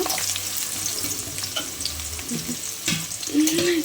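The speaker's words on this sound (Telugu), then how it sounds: "నూనె బాగా కాగింది ఉల్లిపాయలు వేస్తున్నారనమాట" Onions hit hot oil in a home kitchen pan while cooking a dried fish and ridge gourd curry, giving a loud, continuous sizzle with stirring scrapes and a brief wet splash near the end.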